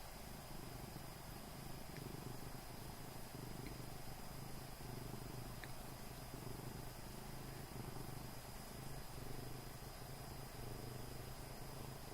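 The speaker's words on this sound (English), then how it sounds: "Can you hear him purring?" A soft, continuous low purring from a cat, faint and steady, with no voices over it.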